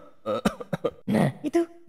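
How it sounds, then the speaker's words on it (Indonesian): Cartoon man coughing in an animated school comedy, a run of short harsh coughs and throat-clearing bursts, close and fairly loud, with no other talk. "Batuk-batuk."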